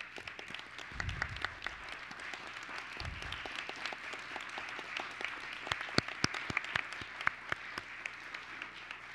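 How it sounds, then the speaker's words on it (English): An audience at a school board meeting applauding, sustained scattered clapping at moderate distance with a couple of low thuds early on. "if we could just give them a round of applause for all that they've done to keep our kids safe"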